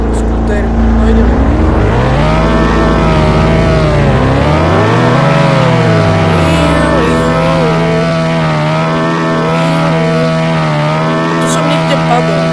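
Scooter engine in the Roblox game Expedition Antarctica, a steady motor drone with rising and falling pitch as it revs and accelerates, running continuously and loud throughout, with people talking over it.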